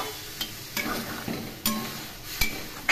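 Prawn and pumpkin curry with potato simmering in a pan after water is poured in, giving a steady low sizzle and bubbling with a few sharp spoon scrapes and clinks against the pan, close and continuous.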